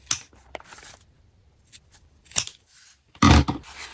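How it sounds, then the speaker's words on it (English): Scissors snip through fabric edges of a sewn bag panel and lining in close, sparse cuts, a few soft crisp snips separated by quiet pauses, the last one louder and nearer. "let's cut these edges off"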